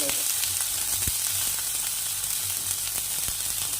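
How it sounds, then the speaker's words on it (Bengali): Onion and spice paste frying gently in a pan for a Bengali prawn dish, a steady close sizzle with a few faint clicks, no talk. "পেঁয়াজটা ভাজা হয়ে সেই রকম পর্যন্ত ভেজে নেব"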